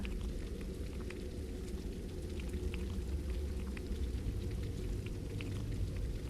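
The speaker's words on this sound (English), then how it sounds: "Oh, it's also raining." Soft steady rain in the video game The Alley patters with scattered drops ticking over a low constant rumble, faint and unbroken throughout with no talking.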